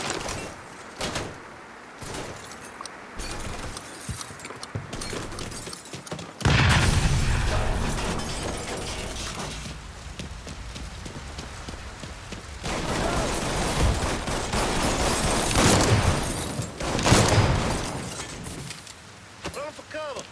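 A grenade blast and bursts of gunfire in Mafia 3, a heavy explosion followed by scattered shots and rumbling combat noise, loud and close, with shouting voices in between.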